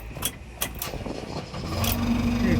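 A JCB backhoe engine is started: a few sharp clicks and knocks come first, then the diesel catches and settles into a loud, steady, close-up drone.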